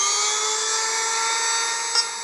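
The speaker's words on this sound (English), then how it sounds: "They drill tiny holes into an egg." A drill boring tiny holes into an egg in a virology research lab, a steady high-pitched whine running evenly throughout, close and alone, with a brief sharper blip near the end.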